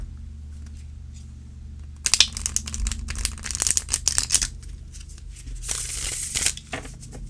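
A brand-new tarot deck is shuffled in bursts of crisp riffling and flicking card noise, close and fairly loud, separated by short quiet pauses with no talking.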